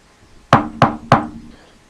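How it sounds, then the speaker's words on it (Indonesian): Three sharp knocks strike a back door in a quick, evenly spaced series, loud and close against a quiet room, followed by silence. "Suara ketukan pintu belakang terdengar samar-samar."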